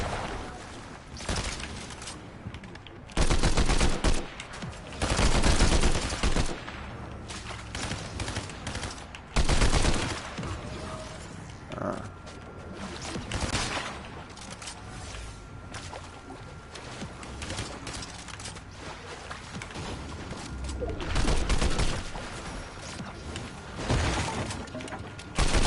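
Fortnite gunfire in bursts, rapid machine-gun volleys and single shots with shattering impacts, loud and close in clusters separated by quieter stretches, with occasional talk.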